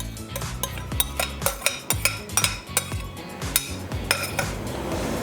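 A spoon stirs reserved vegetables into a pot of pureed corn chowder, clanking and scraping against the pot in a quick, uneven rhythm. The sound is close and fairly loud, and no one speaks.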